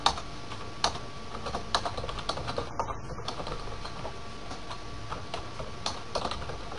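Typing a command on a computer keyboard during a Cisco Packet Tracer networking session: steady, light key clicks at an irregular, fast pace, close and clear, with no talking.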